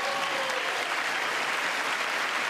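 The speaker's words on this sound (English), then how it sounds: "I don't understand why everybody's getting up and clapping." Sustained applause from the audience at the State of the Union address, a broad wash of many hands clapping at once, heard from a distance and without a break.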